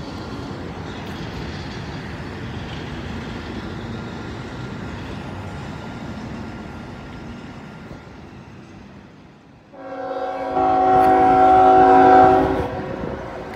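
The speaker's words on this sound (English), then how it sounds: "Alrighty, I think I hear a horn, so I think we got a northbound coming." Rumbling rail and wind noise give way to a loud, sustained horn blast from an approaching northbound Norfolk Southern freight train on the Toledo Sub in Butler County, sounding alone without talk.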